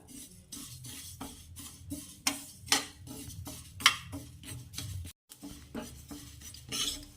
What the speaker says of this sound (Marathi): हे बघा तीळ आहे मी तो गॅस लावला आहे आता याला भाजून घेते